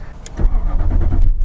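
A Jaguar XJ long-wheelbase 3.5L V8 cranks over as its starter motor whirs, then the engine catches and settles into a low steady rumble, close and loud with no talk.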